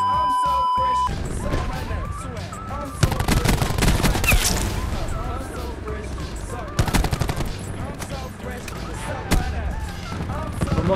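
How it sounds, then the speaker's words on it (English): Rapid, loud gunfire from the video game Black Ops 4, with dense bursts and overlapping shots running throughout, mixed with game effects and players talking over the action. "Stop shooting!"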